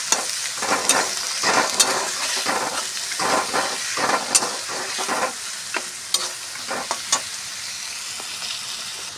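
Soaked chickpeas, chopped green chillies and turmeric masala being stirred in a hot oiled pan for a vegetarian curry, with steady sizzling under repeated clacks and scrapes of the spoon against the pan, close and fairly loud, no voices.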